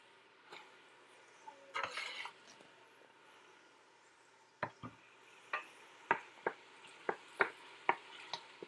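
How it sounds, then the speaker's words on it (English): Celery tipped into a pot of venison stew and stirred: a brief clatter of pieces dropping in, then a run of sharp spoon-against-pot clinks and scrapes, fairly close, with no talking. "Celery in."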